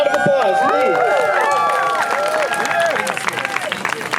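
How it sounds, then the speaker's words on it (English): Rally crowd at an outdoor anti-war protest on July 4th applauding and cheering, loud clapping mixed with whoops and crowd babble, with a voice or whistle-like tones rising over the noise. "A round of applause,"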